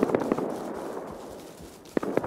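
Bursts of AK rifle fire in a video game at an Arctic mining outpost, a couple of sharp cracks near the start, a quiet stretch, then another short cluster of loud shots toward the end.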